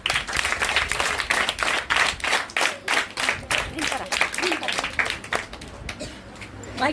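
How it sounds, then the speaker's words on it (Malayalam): Schoolchildren at a student camp clap together in a classroom, a loud pulsing burst of group clapping in rough rhythmic waves, fairly close, with a few voices mixed in. "എല്ലാവരും ക്ലാപ്പ് ക്ലാപ്പ്"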